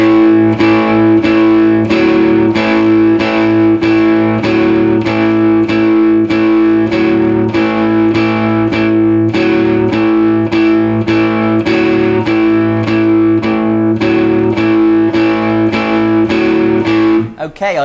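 An electric guitar with heavy distortion and effects plays a steady, loud, chord-driven riff from a song over four bars. The strummed rhythm runs without a break until a brief cut at the end.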